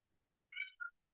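A cat gives two short meows in quick succession, the first longer and the second a brief chirp, faint against a quiet background.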